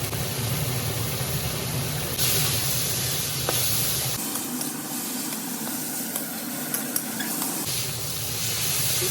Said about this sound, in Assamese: গোটেই বিলাহীখিনি গলি যোৱালৈকে মই এইখিনি ফ্ৰাই কৰিম।